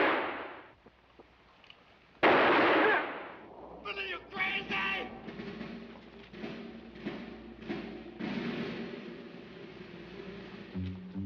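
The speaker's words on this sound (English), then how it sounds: "All this shooting, and he ain't even touched him yet." Gunshots ring out in a western film shootout, a loud sharp blast followed by a burst of rapid cracks and echoing reports, with scattered shots continuing over background noise.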